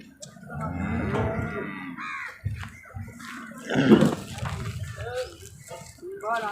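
Cows, including HF cows, moo with long, low calls at a cattle market, one louder bellow in the middle, while people talk nearby.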